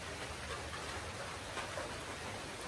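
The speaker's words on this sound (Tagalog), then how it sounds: "Grabe yung ulan" Heavy rain falls outside in a steady, dense hiss, soft and even throughout with no voices.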